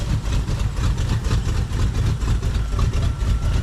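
An old vehicle's engine idles in Bakewell, England, with a steady, loud, low rumble that continues throughout without pause.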